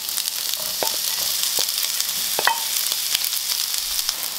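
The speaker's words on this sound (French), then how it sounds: "Dans une grande poêle chaude, je vais mettre de l'huile d'olive. J'ajoute mes oignons pour les faire revenir quelques minutes." Onions frying in olive oil in a large hot pan for a vegan burger, giving a steady close sizzle with scattered stirring clicks and taps from a utensil.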